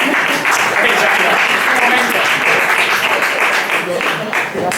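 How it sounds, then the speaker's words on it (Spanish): A seminar audience applauds a volunteer named Sandra with steady, dense clapping that stays loud and sustained throughout, with voices mixed into it. "Más aplausos para Sandra."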